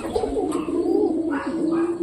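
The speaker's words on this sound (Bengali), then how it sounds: "তারপরে পায়রাদের আমি ভালো করে খেতে দিচ্ছি।" Domestic pet pigeons coo nearby in a low, continuous, throaty warble, with soft rolling pulses and a faint higher chirp mixed in.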